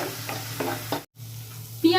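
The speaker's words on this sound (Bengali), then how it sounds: "এই দুটোকেই খুব ভালো করে ভেজে নেব" Onion and garlic paste frying and being stirred in a pan for malai prawn curry, a crackling sizzle with rhythmic spatula scrapes, cut by a brief silent gap before the frying resumes louder.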